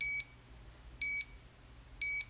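Three short electronic beeps from a HONMAX 8800 gym timer, its first sound option, evenly spaced about a second apart, each a bright two-tone chirp over a quiet background hum.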